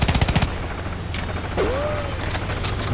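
Gunfire in the shooter Renegade X: a quick burst of automatic rifle fire opens, followed by scattered single shots and a brief whistling whine over a steady mechanical background.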